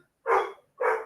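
A dog barks twice somewhere in the background, two short, moderately faint woofs about half a second apart, with no voices over them.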